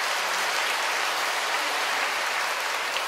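A Catholic church congregation gives welcoming applause during Sunday Mass: a steady, even wash of many hands clapping, moderately distant and softer, with no talk over it.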